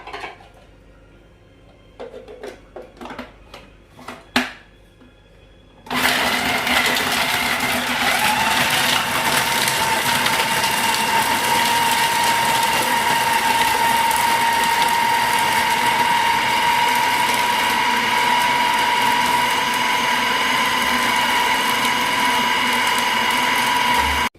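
A few scattered clinks and taps, then a food blender blending beef meatball mixture kicks on and whirs loudly and steadily with a high motor whine.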